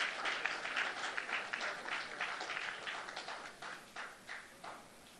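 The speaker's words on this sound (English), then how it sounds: "Kindly give her a round of applause." Audience applause at a professionals' dialogue event, a steady wash of many hands clapping that gradually thins out into scattered claps, fairly faint and with no talk over it.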